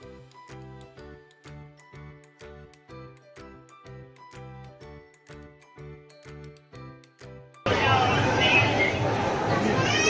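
A Sunday crowd at an ISKCON temple: steady rhythmic chiming, bell-like music gives way to a sudden loud wash of many voices chattering together.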